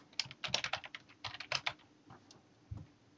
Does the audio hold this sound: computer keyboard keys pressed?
yes